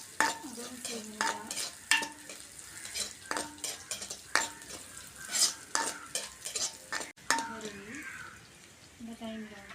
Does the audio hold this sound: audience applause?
no